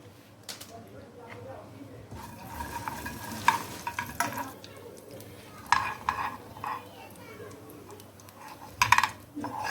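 Cumin seeds spatter and crackle in hot ghee in a pan while a Hindi home recipe is made, with a soft continuous sizzle, scattered sharp pops and occasional utensil scrapes, and a voice talking over it.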